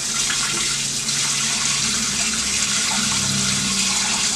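Steady rush of water pouring into a pot, continuous and close, with a slight rising gurgle toward the end.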